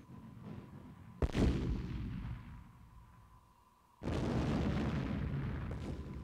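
Battleship guns fire in old CD-i multimedia footage, with two heavy booming blasts a few seconds apart. Each is loud and rumbling, and the second roar sustains with a long rolling tail.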